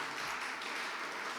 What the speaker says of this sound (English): So please give a round of applause to Edo Development Aid